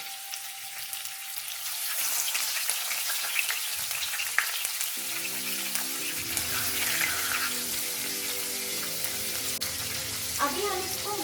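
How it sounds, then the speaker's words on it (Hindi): Pieces of catla fish fry in hot mustard oil, giving a moderate, continuous sizzle heard close by, with some clinks and splashy, watery bursts partway through. "ऑयल अच्छे से गरम होने के बाद हम उसमें फिश को डाल के फ्राई कर लेंगे।"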